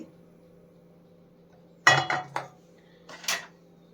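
Metal pan set down on a kitchen stove, a few short clanks and scrapes over a low steady hum, then a second brief clatter.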